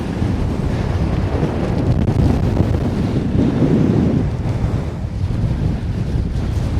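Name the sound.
strong wind on a fell summit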